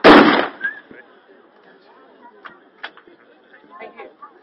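One sharp, loud report from a WW2-era weapon at an outdoor demonstration event, followed by a quiet scene with scattered faint distant sounds.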